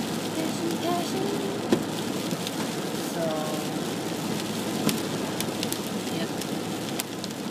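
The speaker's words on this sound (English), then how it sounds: "I hate friggin' rain." Steady rain falls on a job site where support beams are being coated, a dense continuous hiss with scattered drop clicks, while a voice briefly speaks over it.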